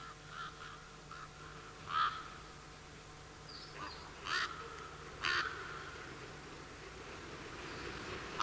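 Common ravens calling in a pine forest in the Caldera de Taburiente, a few hoarse caws spaced apart at moderate distance over a quiet background hum with faint insect buzz.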